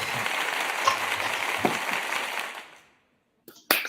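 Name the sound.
applause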